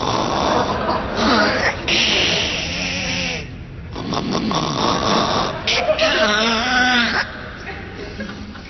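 Rough, sputtering snore-like rasps that rise and fall like a struggling engine cranking, loud and close, with some voice-like tones mixed in.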